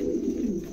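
A Bokhara pigeon gives a low, soft coo close by, a brief continuous murmur with no talk.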